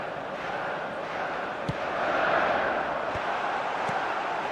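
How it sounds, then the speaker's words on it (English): A stadium crowd in the eFootball 2025 football game roars steadily through the whole stretch, swelling slightly midway, with a few sharp knocks on top. "it certainly got the crowd going"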